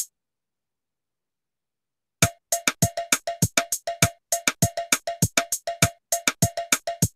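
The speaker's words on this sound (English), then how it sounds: "And of course we can add a cowbell." A steady, fast cowbell pattern with bright metallic clanks, starting after a couple seconds of silence and continuing loud and close.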